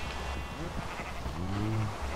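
Minecraft sheep bleating in a quick pair of wavering calls, moderately close and not very loud, over a steady background hiss with no speech.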